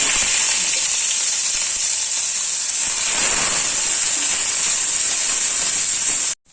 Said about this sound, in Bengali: এবার ওর মধ্যে তেলটা গরম হয়ে গেলে পেঁয়াজটা দিয়ে দিচ্ছি।